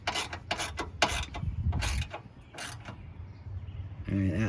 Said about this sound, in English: So we'll zip these down with the ratchet real quick.